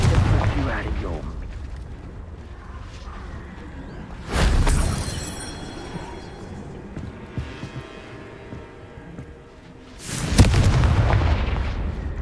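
Two heavy blasting-spell explosions go off in Hogwarts Legacy on Xbox Series X, each a sudden loud boom with a rumbling tail, several seconds apart, over low background ambience.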